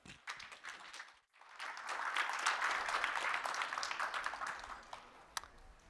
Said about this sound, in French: Bonne main d'applaudissement pour Norage.